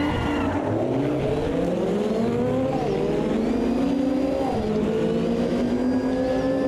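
A Sauber Mercedes race car engine in the Automobilista 2 racing game snarls steadily, its pitch climbing and dropping through gear shifts as the car accelerates, loud and continuous with no talk.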